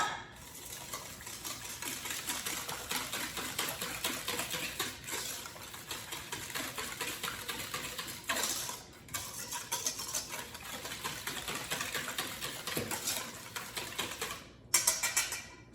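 A whisk scrapes rapidly and continuously against a bowl, beating milk, vanilla, cinnamon, nutmeg and sugar for bread pudding. The clatter stays steady for about fifteen seconds with brief pauses.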